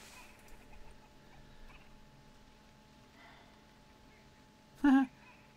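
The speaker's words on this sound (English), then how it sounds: "Hear the birds down that way." A single loud, brief croaking call from a willow ptarmigan rings out close by outdoors, set against faint distant bird sounds and quiet background.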